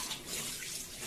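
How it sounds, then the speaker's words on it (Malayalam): Water runs steadily from a kitchen tap while dishes are washed at the sink, a continuous hiss with no speech. "ആ സമയം കൊണ്ട് നമുക്കിനി കഴുകി വെക്കാനുള്ള പാത്രങ്ങളൊക്കെ കഴുകാം"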